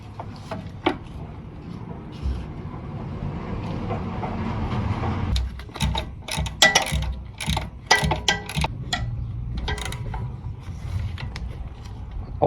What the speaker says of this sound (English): Then we're going to tighten this upper bolt.